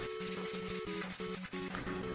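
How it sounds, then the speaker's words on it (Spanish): Sandpaper rubbed by hand over the sides of a small wooden workshop bench, a steady back-and-forth scraping in even strokes, close and continuous with no talk. "Ahora también lijamos los otros lados, para que quede perfectamente firme y que quede bonita nuestra banquita."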